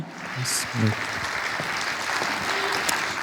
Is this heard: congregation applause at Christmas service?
yes